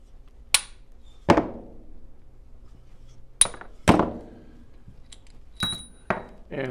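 A 7/16 bolt being hammered to drive out a seized part from an XJ40 AJ6 cylinder head, with a handful of sharp, ringing metal blows spaced irregularly over a quiet workshop background and no talking.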